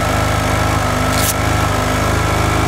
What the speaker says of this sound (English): You'll notice my bike is running with the side stand down